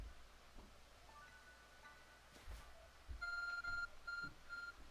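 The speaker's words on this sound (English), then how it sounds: "Getting a notification on my ARC phone." Electronic notification beeps from a phone in the Pokémon Legends Arceus video game, a short run of repeated high tones in steady rhythm near the end, over faint background ambience and rustling.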